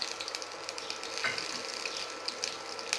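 Curry leaves crackle and sizzle in hot oil alongside garlic and mustard seeds for a small-berry rasam, a steady close frying hiss with brief pops and no talk.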